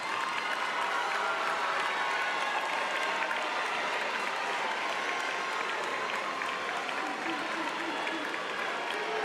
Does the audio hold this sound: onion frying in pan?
no